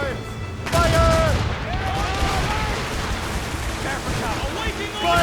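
Warship cannons fire in heavy volleys during a naval battle in Assassin's Creed Rogue, with loud booming blasts that roll into one another over a continuous din while crew voices shout throughout.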